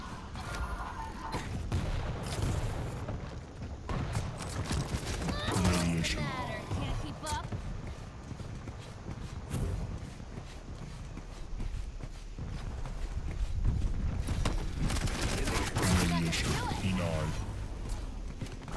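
Gunfire in a Quake Champions team deathmatch comes as repeated rapid shots and bursts along with running footsteps, loud and busy, while players talk over parts of it.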